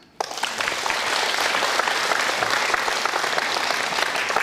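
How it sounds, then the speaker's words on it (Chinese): Sustained applause from a seated lecture audience, starting abruptly and continuing steadily loud and dense throughout, with no speech over it. "来鼓掌"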